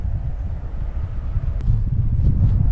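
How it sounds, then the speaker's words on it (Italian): Strong wind gusting across a small mountain lake, buffeting the microphone in a constant low roar that swells toward the end, with no voices. "C'è molto vento"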